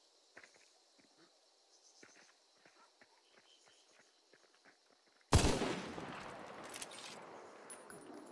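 A single sudden gunshot from the player in a video game, loud and near, cracking after a quiet stretch of faint footsteps and small ticks, then trailing off into a long echoing decay.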